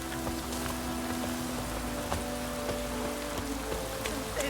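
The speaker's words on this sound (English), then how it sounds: "let it rain." Rain pours steadily in The Witcher 3 as a dense, constant patter with scattered louder drops, over a low hum and without speech.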